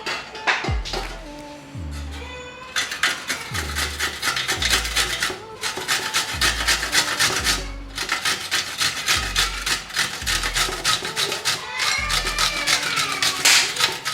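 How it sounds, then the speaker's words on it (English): Okra is grated by hand in steady repeated strokes, each a loud rasping scrape, close and continuous, with brief pauses between passes. "Guys, once our meat is on fire, let's grate our okra."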